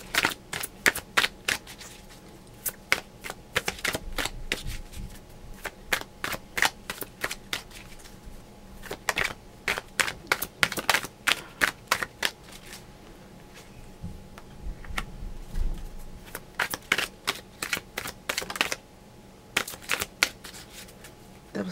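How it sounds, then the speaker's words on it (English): Bursts of tarot cards being shuffled, crisp riffling flutters repeating in quick runs with short pauses between, close and fairly quiet. "Back to the shuffle."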